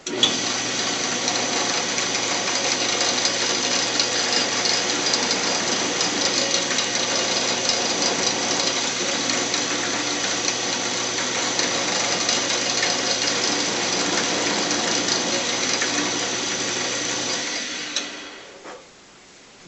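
A power tool hogs a small 1/8 inch circle out of wood for a wooden wave box, giving a steady, loud, unbroken whine for about seventeen seconds before it cuts off and the sound dies away.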